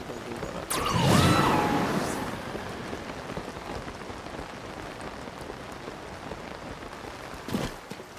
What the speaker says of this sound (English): It's raining, I can't even climb on it.